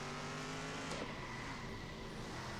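Stock cars racing in the video game Circuit Superstars, a steady loud engine drone with a brief passing whoosh, no talking.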